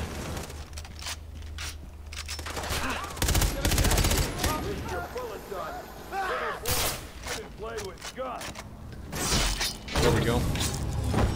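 Bursts of gunfire from Far Cry 3, loud volleys and rattling automatic shots, mixed with mechanical clatter and breaks where a voice speaks.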